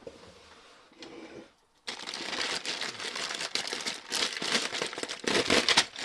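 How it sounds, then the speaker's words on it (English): Big plastic bags full of brick kit pieces crinkle and rustle close up, a brief soft rustle, a short silence, then sustained loud crumpling with small pieces shifting inside. "Big plastic bag and another big plastic bag."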